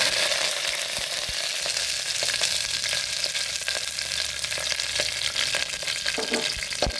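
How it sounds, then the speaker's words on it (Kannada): Curry leaves sizzling in 4-5 spoons of hot oil, a loud, dense crackling hiss with scattered sharp pops, steady and close throughout with no talk. "ಇನ್ನು ಸ್ವಲ್ಪ ಅದು ಕಾಯುವಾಗ ಕರಿಬೇವಿನ ಸೊಪ್ಪನ್ನು ಹಾಕೋದು"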